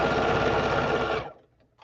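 A sewing machine runs a fast, dense burst of basting stitches close up, loud for just over a second before stopping abruptly into near silence.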